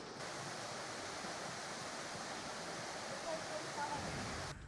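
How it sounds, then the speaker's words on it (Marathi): Water pours over the overflowing Palnekond dam in Sindhudurg after heavy monsoon rain, a constant, dense roar of rushing water that stays even and unbroken throughout. "सिंधुदुर्गातील पाळणेकोण धरण हे ओव्हरफ्लो झालंय"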